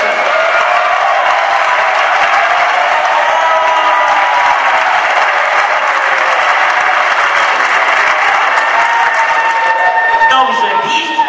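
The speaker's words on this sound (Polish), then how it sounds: "Po pierwsze to brawa dla przewodniczącego Miszewskiego, poproszę." Guests at a carnival dance party applauding, a loud sustained crowd roar of clapping mixed with cheering and murmuring voices that continues evenly throughout.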